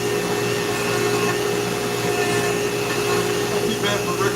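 A Dremel rotary tool carves a bald eagle head, giving a steady, loud, continuous high-pitched whine with a low hum underneath, holding constant for the whole stretch.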